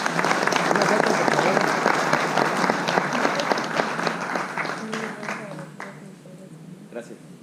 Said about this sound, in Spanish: Un aplauso para el ingeniero, por favor.